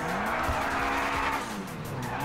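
A matte red modified car in GTA 5 skids with a loud, continuous tire screech over a steady engine drone, close and alone, lasting a couple of seconds.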